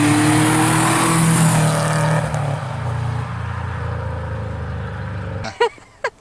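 RSTI car with engine swap, its motor droning steadily and loud up close, fading down before two short sharp bursts at the end.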